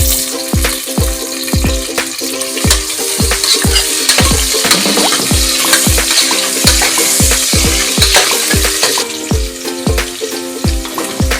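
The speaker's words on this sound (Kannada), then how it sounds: "ಈಗ ಒಂದೊಂದೇ ಒಗ್ಗರಣೆಗೆ ಒಂದು ಈರುಳ್ಳಿ ಮತ್ತು ಸ್ವಲ್ಪ ಪುದೀನ ಹಾಕ್ಕೊತಾ ಇದ್ದೀನಿ." Onion and mint frying in hot oil in a pressure cooker for a mutton sambar, a steady loud sizzle broken by a regular series of sharp stirring scrapes and taps throughout.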